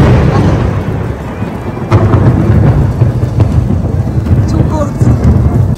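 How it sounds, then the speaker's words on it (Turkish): Heavy rain pours through the streets of Rome near the Spanish Steps square while thunder rumbles, a loud, dense downpour with deep rolling booms over it. "Komple ıslandık ve yağmur gittikçe şiddetini arttırıyor."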